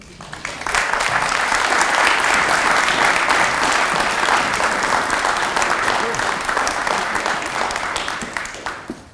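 A forum audience at the Urban Blight Forum at UAlbany applauds after a speaker's remarks, many hands clapping in a dense, even burst that swells quickly, holds steady for several seconds, then tapers off at the end.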